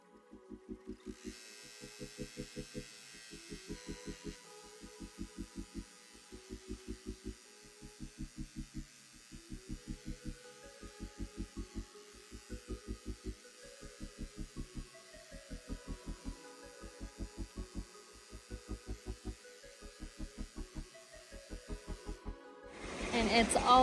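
A Brother PR680 embroidery machine stitches glitter embroidery with a rhythmic, pulsing hum in quick repeated bursts, close and steady, ending with a brief louder clatter.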